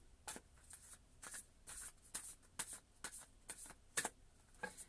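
Tarot cards being shuffled and pulled, a series of crisp riffling bursts and soft slaps about a second apart, close and fairly quiet, with no talking.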